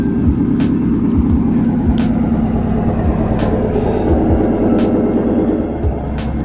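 A car with a modified exhaust idling with a deep, throaty burble, a steady low rumble with occasional clicks, loud and close throughout.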